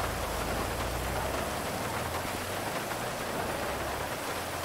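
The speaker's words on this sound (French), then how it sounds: "C'est la pluie, là." Steady heavy rain falling outdoors near a vehicle, a dense continuous hiss of drops with a low rumble underneath, constant in level and with no voices.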